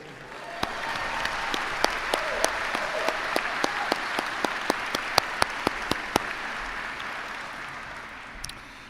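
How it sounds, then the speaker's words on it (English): Audience at a university presidential inauguration ceremony clapping for a group of singers, a steady moderately loud wash of many hands with occasional sharper single claps standing out, tapering slightly near the end. "Let's have another round of applause for our state singers."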